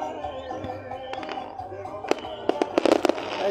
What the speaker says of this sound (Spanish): Ahí están los fuegos artificiales aquí en el Autódromo Gálvez